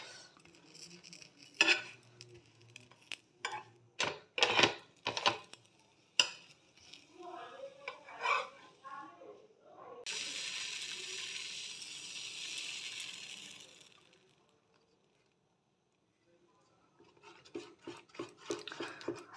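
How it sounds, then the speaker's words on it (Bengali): Batter for colourful patishapta is stirred in a pan: a run of close, sharp utensil scrapes and clinks, then a softer hiss, a quiet pause, and more clattering strokes. "একটু করে নাড়িয়ে নিতে হবে, নাহলে তলায় যাতে জমে না যায়।"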